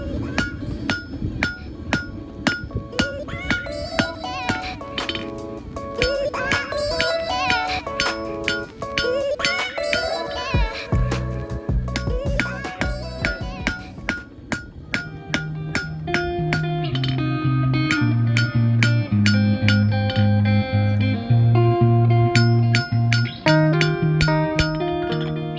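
A hammer rings repeatedly against a steel railroad spike on an anvil while forging a knife, rapid bright metallic strikes in steady rhythm, loud and close, later joined by a lower droning tone.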